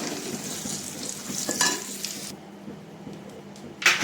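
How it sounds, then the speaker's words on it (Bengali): Dhoka lentil cakes frying in a pan make a close sizzle that drops away midway, leaving a quieter hiss before a sharp metal clink of a utensil near the end. "দেখো এক এক করে সমস্ত ধোকাগুলো ভেজে নিলাম, আর অল্প একটু আছে, ভেজে নিই।"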